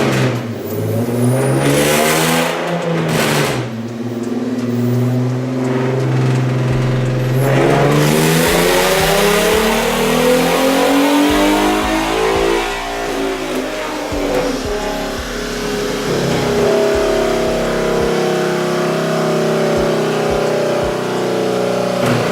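Modified 2011 Ford Mustang V6 on a dyno roars up through the revs in a long, loud pull, the engine note climbing steadily and holding near the top before easing off, close and unbroken.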